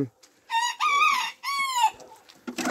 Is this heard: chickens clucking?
yes